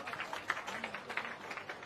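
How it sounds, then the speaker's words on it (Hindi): Applause from a crowd welcoming a speaker at a Samvidhan Bachao political rally in Alwar, a steady wash of many hands clapping throughout, with no pauses. "जोरदार तालियों से उनका स्वागत करिए"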